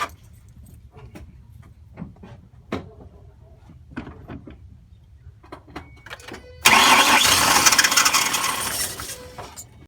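Several light clicks and taps come first. Then a 2005 Ford Mustang with the 4.0 engine gives a loud, sudden burst of cranking that fades over about three seconds without catching, close up.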